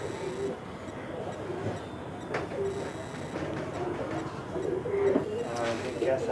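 Soft pigeon cooing rises intermittently over steady background noise, low throaty calls repeating at irregular intervals, with faint voices nearby.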